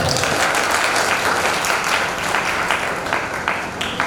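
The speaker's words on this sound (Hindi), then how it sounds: "आप किछु देर ताली बजा देता है" An audience at a Maithili comedy anniversary show claps during an award presentation, a continuous moderately loud wash of applause with some sharper individual claps standing out near the end.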